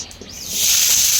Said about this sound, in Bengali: তেল গরম হয়ে গেছে, এখন দিয়ে দিব মাছ।